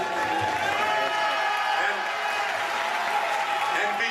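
Audience at a film festival tribute in Gérardmer applauding steadily, a dense wash of clapping with some crowd noise that holds evenly throughout with no break.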